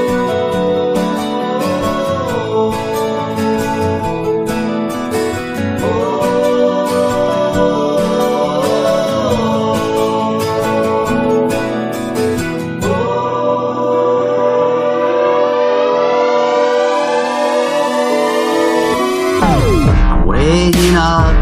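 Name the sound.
A song playing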